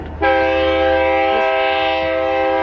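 A loud, sustained train horn blares steadily, a rich multi-tone blast starting abruptly and holding without pause, with low rumble underneath.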